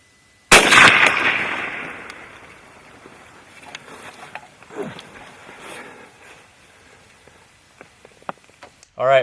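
A single sharp rifle shot cracks out while hunting a whitetail doe in the late Midwest season, loud and close, then rolls away into quiet with a few faint rustles and clicks.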